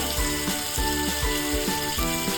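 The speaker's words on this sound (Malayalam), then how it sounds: "ഞാൻ കരിമീൻ ഫ്രൈ ചെയ്യാനിടാണ്" Pearl spot fish (karimeen) frying in coconut oil in a pan, a dense close sizzle with rhythmic clinks and scrapes of a utensil against the pan.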